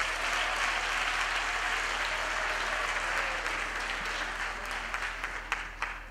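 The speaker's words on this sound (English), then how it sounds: "we really need to give our women a big round of applause" Sustained audience applause at a university graduation ceremony, a dense, even wash of many hands clapping that stays loud throughout and thins slightly toward the end, with a few sharper individual claps standing out.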